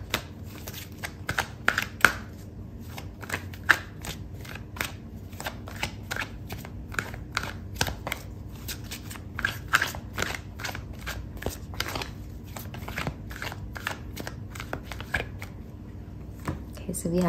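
Tarot cards shuffled in the hands, a long, steady stream of close, crisp flicking snaps in quick succession, with brief louder riffles, under intermittent speech.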